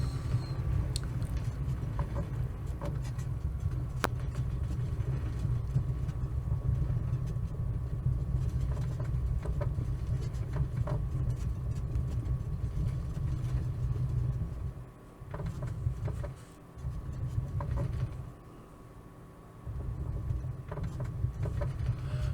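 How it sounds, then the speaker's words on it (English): Mitsubishi A6M5 Zero radial engine in a flight simulator, droning in a low, steady rumble that briefly drops and surges near the end before settling back into its even run. "Let's start the engine again and go back to Suwanose-jima."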